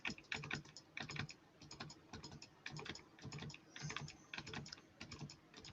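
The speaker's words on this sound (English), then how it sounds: "That's a lot of clicking." Rapid, continuous clicking of a computer keyboard and mouse during a Battle Pirates session, close and steady for the whole stretch with uneven bursts of keystrokes.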